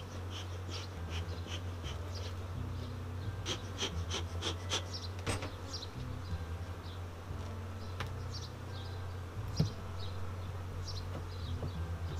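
Honey bees buzz around an established hive built from a nucleus colony, a dense, steady drone close by with individual bees zipping past and faint birdsong, no talk.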